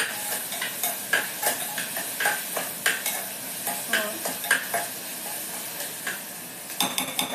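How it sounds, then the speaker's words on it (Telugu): Mutton keema sizzles in a pan with green chilies added, while a spoon stirs in repeated scraping strokes over a steady frying hiss, close by. "ఇప్పుడు పచ్చిమిర్చి వేద్దాం. ఒక 3 పీసెస్ పచ్చిమిర్చి వేసానండి."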